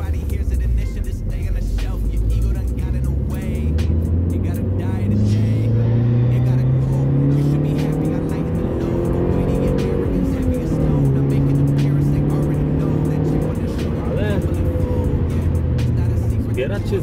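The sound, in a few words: Honda Prelude V car driving and accelerating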